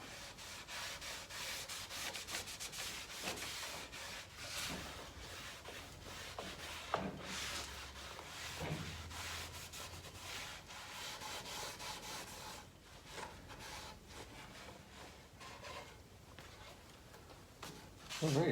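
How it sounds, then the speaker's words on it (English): Steady cloth rubbing across a stained wooden demilune table, wiping excess wood stain off in long continuous strokes, quiet and close with faint room noise throughout. "Okay, that is stain applied everywhere. I'll begin rubbing it off."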